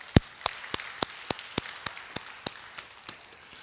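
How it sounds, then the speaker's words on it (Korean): Sparse, evenly spaced claps ring out in a church sanctuary during an Easter Sunday service, about a dozen sharp individual slaps in a slow, steady rhythm, moderately close and fairly quiet, with no talking over them. "우리 하나님께 감사와 영광 박수 올려드리겠습니다"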